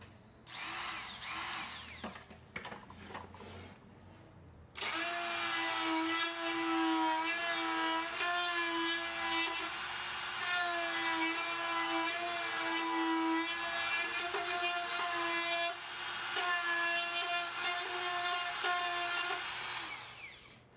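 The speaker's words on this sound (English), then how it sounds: "Using a Dremel tool or a file, expand the holes just slightly enough to fit in the strain release" A Dremel rotary tool grinds to widen holes in a plastic housing, whining loudly and steadily at close range after a few short bursts of starting and stopping.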